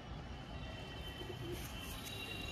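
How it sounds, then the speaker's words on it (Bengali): A Chiniya homer pigeon coos softly at close range over a faint, steady background hiss, with a few low, muffled coo notes and no voices. "এরপরে আপনাদের কাছে নিয়ে এসেছি একটি চিনিয়া হোমার নড় পায়রা"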